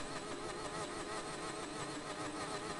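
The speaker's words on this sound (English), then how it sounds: "or had the engine sound glitch there for a moment." Race car engine in a racing video game glitching, a loud steady droning whine with a wavering, stuttering pitch and no talk over it.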